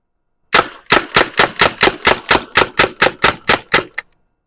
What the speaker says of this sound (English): gonna shoot some shot right here to empty out the magazine